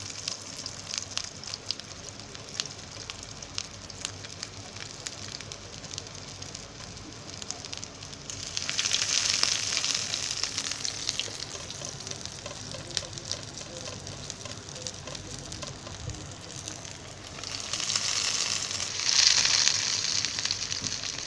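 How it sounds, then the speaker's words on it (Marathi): Breadcrumb-coated sweet corn cutlets deep fry in oil, with a constant crackling sizzle that swells into two louder bursts as more pieces are dropped in, close and without talking. "असे 4-4 सोडून आहे ना तळून घेते"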